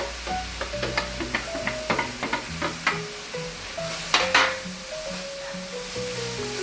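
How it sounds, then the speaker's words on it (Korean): Apple pieces dropped into bubbling sugar in a pan for apple pie filling, sizzling as a utensil knocks and scrapes in quick irregular strokes, with a soft melody playing underneath. "일단 설탕이 끓어서 급하게 사과를 넣었습니다"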